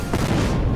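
A loud, dense explosion from a card played in the video game Hearthstone, a single booming burst filling the short moment with no talk over it.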